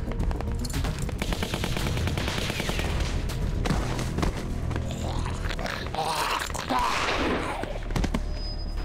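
Rapid automatic AK rifle fire in The Walking Dead video game, loud sustained bursts of shots rattling through the whole stretch with game sounds mixed in.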